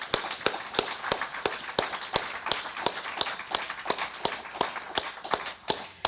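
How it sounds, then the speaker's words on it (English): Audience applause at a literary reading with writers in attendance, heard as evenly spaced claps in a steady rhythm, fairly close and crisp with no voices. "And I just want to applaud her now."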